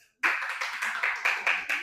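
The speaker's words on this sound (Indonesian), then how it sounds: "Berikan tepuk tangan yang meriah" A classroom audience of students at a coding and artificial intelligence lesson claps in a short, loud, rhythmic run of about seven evenly spaced claps that begins suddenly after a brief silence.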